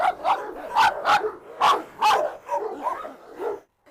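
Several excited dogs, a Rottweiler among them, bark and yip in quick irregular bursts, close and loud, for a few seconds with no talking.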